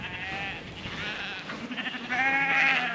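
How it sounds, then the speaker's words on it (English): A large flock of about 150 sheep bleats on open Northumberland farmland along St Oswald's Way, several overlapping calls near and far, swelling louder toward the end as the animals hurry toward a gate. "So the sheep are now running away to the gate that we want to go through."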